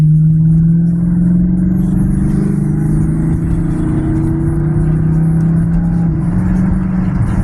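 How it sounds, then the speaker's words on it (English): A Dodge 392 engine drones loudly and steadily as it pulls through second gear on a highway, its low hum rising slightly in pitch as the revs climb and the variable valve timing opens. "I heard the VVT open up."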